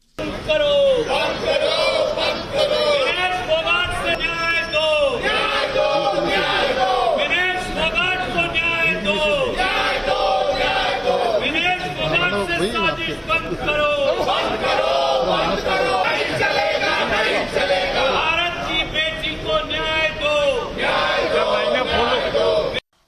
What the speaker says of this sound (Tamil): நாடாளுமன்ற வளாகத்தில் இந்தியா கூட்டணி கட்சியினர் போராட்டம் நடத்தினர்